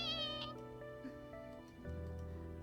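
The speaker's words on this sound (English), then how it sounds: "The boy pets the kitten's head gently" A kitten meows in the visual novel The Fruit of Grisaia, a soft tonal cry over steady background music at low level, with no talk over it.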